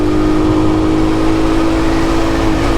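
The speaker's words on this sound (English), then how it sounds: "At high RPMs, the bike tends to lose a lot of power. Like, it sort of jerks." A Yamaha LC135 motorcycle engine runs loud and close at high RPM, a dense continuous drone holding steady for a few seconds.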